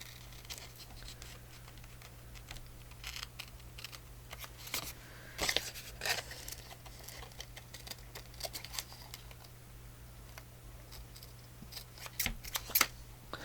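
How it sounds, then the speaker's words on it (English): Scissors trim paper for a Christmas pocket decorated with ephemera, making faint, sparse snips that cluster around the middle and again near the end in a quiet room. "And now we'll trim that."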